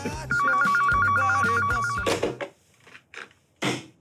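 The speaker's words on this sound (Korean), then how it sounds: "다 내가 존댓말 써야 되는 분들 전화야" A phone gives a loud melodic ringtone for about two seconds, then stops, followed by a few brief knocks and rustles in a quiet room.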